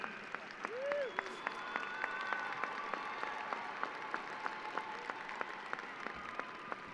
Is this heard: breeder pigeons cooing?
no